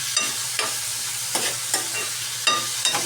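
Vegetables frying in a pan, stirred with repeated sharp scrapes and knocks every half second or so over a steady close sizzle, with no talking.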